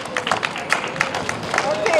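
A crowd claps for a New York City protest singing group at a rally; sharp claps patter steadily across the gathering with voices murmuring underneath.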